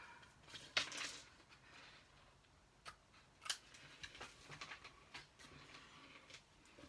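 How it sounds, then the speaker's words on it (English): Snips cut through stamped paper scraps in a quiet room, giving scattered sharp crisp snips and clicks at irregular intervals, with one louder snip near the start. "I'm going to attempt to cut this, the words up."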